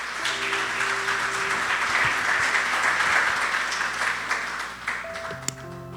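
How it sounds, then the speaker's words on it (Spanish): A church congregation applauding loudly and steadily for several seconds, dense clapping filling the room before it tapers off near the end. "Dale un fuerte aplauso al Señor."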